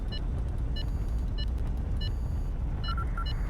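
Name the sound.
alarm being raised, from the video game Highfleet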